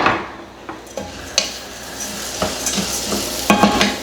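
Spoon scraping and clacking against a pan while mushrooms and onions sizzle, sharp utensil hits recurring irregularly every half second or so over a steady frying hiss, close and fairly loud.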